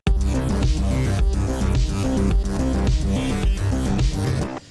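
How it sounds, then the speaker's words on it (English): A dense synth song section plays with a second arpeggiator kicking in, rapid repeating note patterns over a thick low end, loud and continuous until an abrupt cutoff at the end. "the next part of the song has a second arpeggiator that kicks in."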